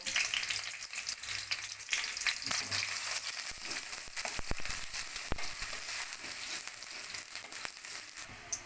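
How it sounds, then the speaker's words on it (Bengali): Sliced onions for egg biryani fry in hot oil in a pan, a continuous dense sizzle with occasional sharp scrapes and clicks of a spoon, close and steady throughout. "বেরেস্তাগুলো ভেজে ফেলেছি এবার আমি তুলে নেব"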